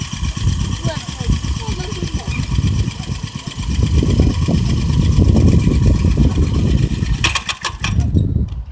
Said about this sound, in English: You gotta let it idle for a second, or it's just the clutch is getting too hot.